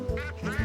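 Two loud, close duck quacks in the fishing video game Russian Fishing 4, coming in quick succession in under a second.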